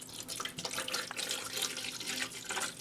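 A steady hiss of tap water runs continuously into a container, used to fill a Black & Decker coffee maker, close and fairly even with no speech.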